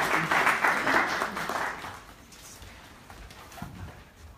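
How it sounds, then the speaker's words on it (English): Audience applause at a community talk on bipolar disorder, a burst of many hands clapping that is strongest at first, then thins into scattered, quieter claps as it winds down. "So let's just give everyone a round of applause."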